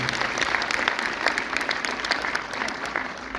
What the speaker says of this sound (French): peut applaudir, Milan.